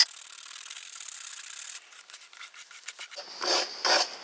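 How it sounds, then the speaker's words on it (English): 150-grit sandpaper rubs over excess cured resin on a surfboard repair. A steady close rasp comes first, then shorter, uneven scrubbing strokes toward the end, quiet and with no talk. "So this sandpaper that I'm using, it's 150."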